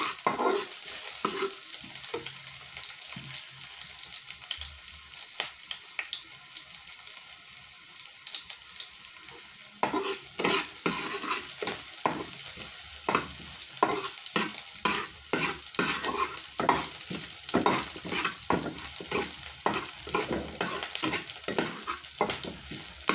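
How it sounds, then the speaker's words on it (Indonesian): Ingredients for sayur bening sautéing in a pan, a constant close sizzle with irregular scraping and stirring strokes growing busier toward the end, no voices. "Tumis, suara saya suara tumis. Kita tumis ya"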